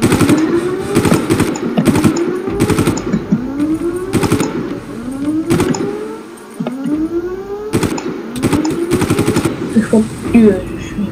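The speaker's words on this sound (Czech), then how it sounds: "Něco střílí." Rapid bursts of gunfire in the video game Far Cry crackle repeatedly over a wailing, rising and falling siren-like whine, loud and close.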